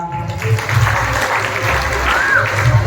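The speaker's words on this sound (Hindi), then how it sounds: "जोरदार तालियां।" Crowd applause during a staged devotional play, a steady clapping wash mixed with background hum, murmur and a brief whistle-like tone, moderately loud throughout.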